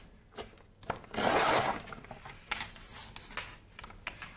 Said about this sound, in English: It's gonna cut along those dotted lines.